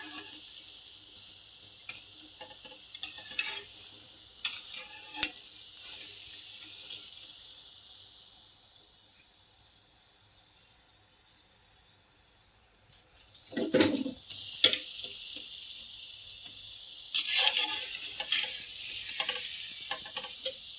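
Mysore bonda deep-frying in hot oil give a steady, fairly quiet high hiss, broken by occasional sharp clinks and scrapes from around the pan in the second half.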